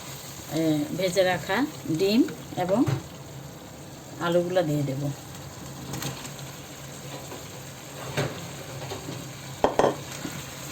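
Masala spice paste fries and gets stirred in a pan for a Bengali egg and potato curry, a soft steady sizzle with occasional scraping while someone talks intermittently over it.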